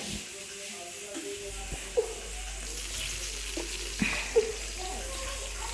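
Masala-coated fish fries in coconut oil with a steady soft sizzle and a few brief pops and crackles in the pan.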